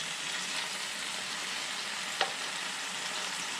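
Turmeric-coated redfish pieces fry in a pan with a steady, close hissing sizzle. A single brief tap or scrape from a utensil sounds midway, and no one speaks.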